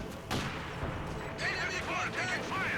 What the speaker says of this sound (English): Looks like JackTheRooster ended up stealing the German mortar.